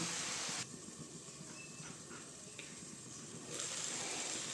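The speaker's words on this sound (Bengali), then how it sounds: "শাক ভাজা কিন্তু আমার প্রায় হয়ে এসছে" Water spinach and small crabs fry in a covered pan with turmeric and salt, village style, producing a faint, steady hiss throughout that grows slightly louder near the end.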